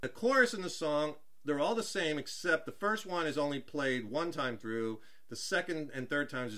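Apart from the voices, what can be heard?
No distinct noise like a dog, phone or traffic.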